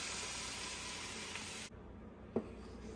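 Eggs hit a hot pan for a frittata with Parmigiano, prosciutto and sage, a steady close sizzle that drops off abruptly partway through, followed by a single soft clink.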